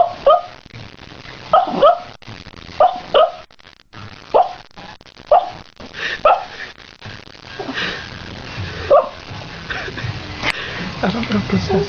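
A dog giving a series of short yips and whimpering barks in a fairly steady rhythm, near and moderately loud, later fading into softer sounds as a person talks over it.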